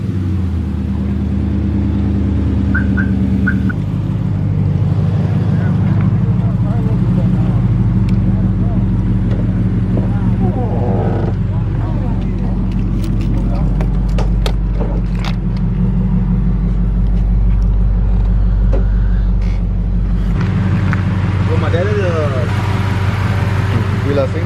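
A Stepside pickup truck drives on a test drive, its engine rumbling loudly inside the cab with shifts in pitch as it speeds up, while people talk over the drone.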